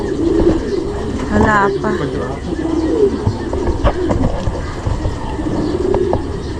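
Racing pigeons coo repeatedly nearby, soft throaty calls recurring through the scene, while people talk over them.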